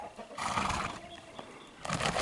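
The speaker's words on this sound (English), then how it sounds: "So we're going to let Debbie work with her horses" A horse on an eco-ranch lets out a short neighing whinny at moderate distance, with a second burst near the end of the brief clip and faint outdoor rustle between.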